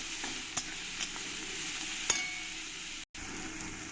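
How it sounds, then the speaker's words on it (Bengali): Onions frying with salt in a pan give a steady, even sizzle with a few light clinks of a utensil, and the sound cuts out briefly near the end. "আমি পেঁয়াজগুলোকে একটু লাল লাল করেই ভেজে নেব"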